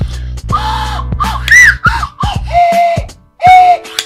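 A slide whistle plays a melody, sliding between pitches in separate breathy notes, loud and close.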